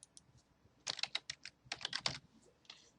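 Fingers tap out a password on a computer keyboard: a short burst of crisp, close key clicks in two quick clusters, with quiet gaps before and after in an otherwise silent room.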